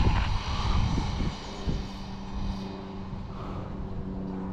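A Tamiya MF-01X RC car with a Beetle rally body makes a speed run, its electric motor a whining drone that fades from loud to a steadier, more distant hum.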